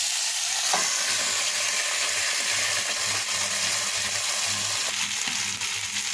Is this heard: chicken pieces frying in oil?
yes